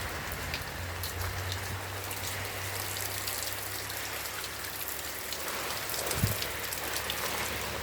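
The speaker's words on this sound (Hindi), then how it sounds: "इतना ही तेज बारिश दोस्तों कल हो रहा था, और आज भी इसी समय पर ही बारिश हो रहा है।" A dense downpour drums on surfaces in an unbroken wash of rain noise, with a low rumble early on and a brief heavier splash near the end; close, steady and without speech.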